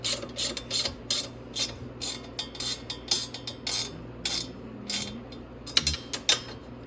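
A ratchet wrench tightens bolts on the exhaust of a Grizzly ATV, giving rapid, close clicking bursts in repeated strokes with short pauses between them.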